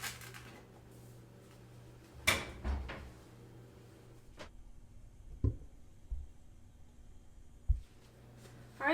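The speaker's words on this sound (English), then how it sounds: "Let's get these in the oven." An oven door opens and closes as a tray of pecans for candy goes into the oven: a handful of soft clunks, knocks and clicks spaced apart in a quiet kitchen.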